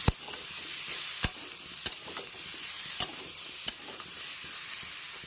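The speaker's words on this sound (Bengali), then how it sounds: "এবার ভেজে রাখা পটলগুলো দিয়ে দেবো আর ভালো করে কষে নেবো" Potatoes stir-frying in a pan with fried pointed gourd for an alu potol rui curry: a steady hissing sizzle punctuated by four or five sharp spatula knocks at irregular intervals, no talking.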